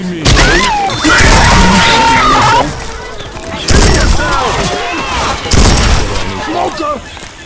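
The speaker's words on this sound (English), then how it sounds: "You are shooting me." Rapid gunfire bursts and impact sounds crackle in the video game Left 4 Dead 2 on a modded Dark Carnival map, loud and chaotic with short pauses, mixed with in-game shrieks and effects.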